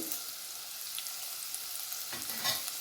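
Onion, green chili and curry leaves sautéing in a pan, a soft, steady sizzle broken by a few scrapes and clinks of stirring, fairly faint and close, with no talking.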